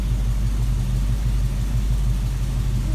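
Plymouth Duster engine idling in gear at about 800 rpm with the idle solenoid on and AC running: a steady, close, low rumbling throb with an even pulse and no revving.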